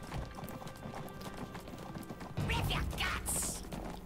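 Horse hooves clip-clopping in the fantasy video game Neverwinter, a steady run of hoofbeats that grows louder and busier partway through, set amid game ambience and effects.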